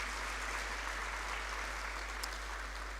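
An audience at a faculty research day applauds a guest speaker, giving a dense, continuous wash of clapping at an even level with a low steady hum underneath and no voices.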